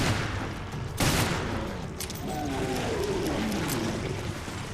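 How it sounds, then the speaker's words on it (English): Bursts of gunfire in Resident Evil Revelations Raid Mode, a sharp volley near the start followed by further shots over a rumbling game backdrop, no talking. "Shoot him in the head."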